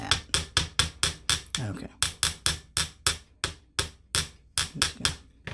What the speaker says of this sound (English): got a little more hammering up here, like that